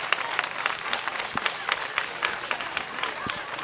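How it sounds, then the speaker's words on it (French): An audience at a school equipment donation ceremony in Ouidah claps in a dense, lively round of applause that stays even throughout, with a voice or two faintly mixed in. "Applaudissez-le, s'il vous plaît."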